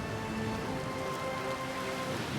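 Steady heavy rain hisses continuously, with a low rumbling wash underneath, like a storm at sea, in the video game Pillars of Eternity II: Deadfire; no voices.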